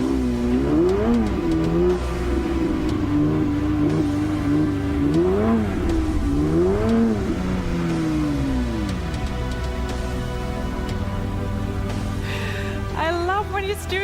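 A Porsche 911 GT3 race car engine on a racetrack rises and falls through repeated revs, a loud continuous mechanical drone with sweeping pitch changes, ending in a sharp climbing rev.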